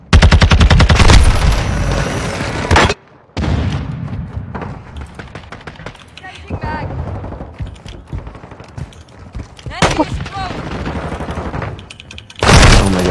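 Gunfire from a stockless sniper rifle in an online shooter game, loud repeated shots and bursts with brief pauses, plus clicks and reload clatter between them.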